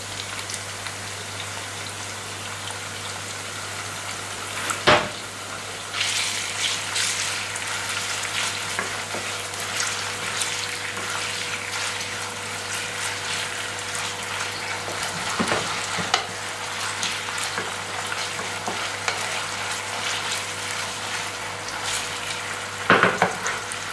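Bacon fries in a pan for lasagna, a continuous close crackling sizzle with faint spitting pops and a few sharp clatters of a utensil against the pan.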